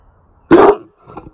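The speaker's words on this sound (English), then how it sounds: "What are you barking at?" A single loud, close dog bark, followed by a fainter, shorter second bark.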